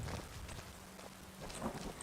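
Soft, steady rain patters in Skyrim as a faint background wash with a few scattered drops and light thuds.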